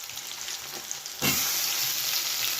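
Mushrooms go into a pan of hot oil for a mushroom curry. A steady low sizzle jumps into a louder, fuller hiss as they land, then holds there, close and continuous with no voices.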